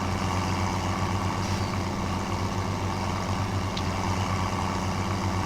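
A tractor engine in the farming game Farming Simulator 17 runs steadily with a low, continuous rumbling drone, constant in level and unbroken by talk.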